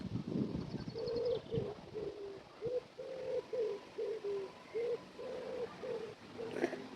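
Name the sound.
birds cooing by a lake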